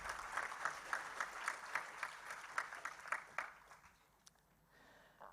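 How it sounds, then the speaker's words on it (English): Audience applause in a hall at a royal debate championship: a rhythmic run of clapping, fairly distant and moderate in level, which thins and fades out over the last second or so. "Give a big round of applause to all of you."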